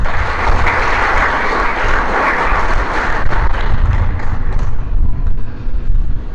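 Applause from a church congregation fills the space after a sermon, a loud, sustained wash of many hands clapping together with a low rumble underneath, steady throughout and fading slightly near the end.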